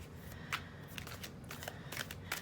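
A deck of Good Tarot cards being shuffled by hand, heard as quiet, crisp riffling and sliding bursts with a few sharper snaps, close and alone.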